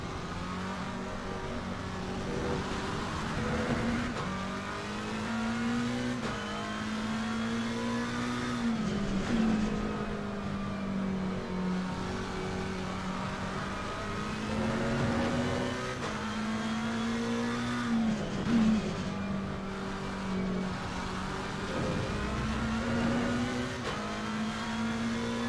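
Race cars in Assetto Corsa Competizione on a rainy track make a continuous engine drone from the driven car, its pitch rising and falling with the revs, while other cars pass one at a time.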